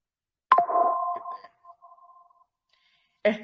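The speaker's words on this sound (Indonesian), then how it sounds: "Ini banyak notif BTW loh, yang join Zoom kayaknya pada salah paham deh" Zoom meeting notification chimes during an online webinar: a sudden electronic tone with a ringing tail fades into softer repeated beeps, followed by another short alert after a pause, with no speech.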